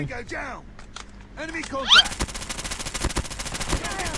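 Rapid automatic fire from an AS VAL rifle in Call of Duty Mobile, dense bursts of gunshots running through the second half over game sounds and a speaking voice.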